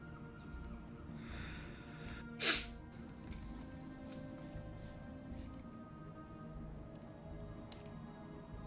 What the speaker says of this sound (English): I wanted to sneeze, so I blew my nose